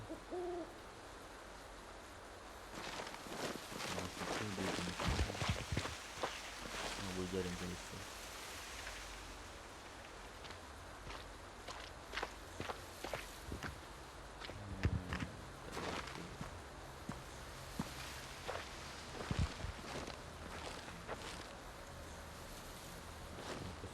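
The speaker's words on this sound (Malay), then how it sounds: "itu aku punya bunyi tapak kaki" Footsteps in the horror video game Don't Scream, soft repeated steps in short clusters over a steady rain-like ambience, with someone talking quietly at times.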